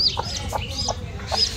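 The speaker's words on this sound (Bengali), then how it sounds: "এই হচ্ছে মুরগির খামার, এটার ভিতরে একটা মুরগি ছিল" A brooding hen in a farm coop clucks close up in four evenly spaced, short throaty calls with faint high chirps between them.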